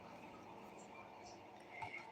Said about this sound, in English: But the crickets are so loud,